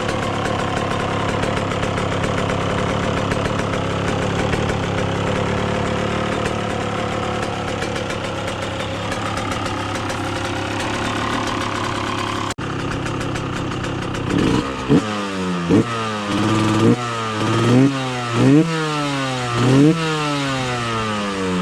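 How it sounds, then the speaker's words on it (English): A Yamaha YZ125 two-stroke motorcycle with stock exhaust idles steadily, then revs in repeated rising bursts, each throttle blip climbing and falling back to idle. "I'll give you a sound clip of the stock exhaust running"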